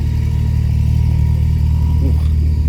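A car engine at a retro car show runs loud and steady with a low throbbing rumble, rising slightly in a brief rev toward the end, with crowd noise in the background.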